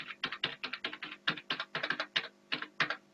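Keys clatter on a computer keyboard in quick, uneven bursts of separate taps, close and fairly quiet, with short pauses between clusters of keystrokes while entering server settings.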